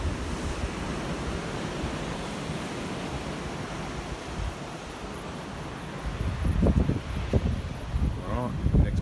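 Waves wash in on the beach at Mallacoota in a continuous broad rush of surf with wind buffeting the microphone, swelling louder near the end, while a person talks over it.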